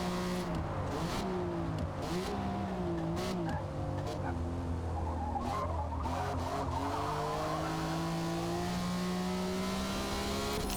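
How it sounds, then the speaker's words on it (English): A car engine roars steadily throughout, its pitch rising and falling through gear changes, with tyre squeal and skidding noise over the top. "Someone tell me why this car sounds German."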